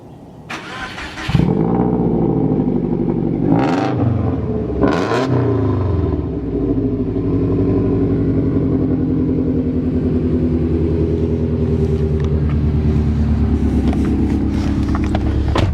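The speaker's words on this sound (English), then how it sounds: "Catless mid pipe to a 3-inch quad Strongman exhaust. She's loud, she's fast, and she's fun." A Subaru Spec.B running a catless mid pipe into a 3-inch quad Strongman exhaust fires up with a sharp start, blips the throttle twice, then settles into a loud, steady, deep rumbling idle close by.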